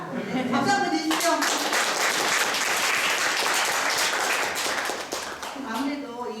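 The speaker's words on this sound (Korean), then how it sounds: "네, 박수 한번 주십시오." Audience applause at a Korean training lecture, a burst of hand clapping that swells quickly and holds for several seconds before fading, with a voice briefly heard before and after.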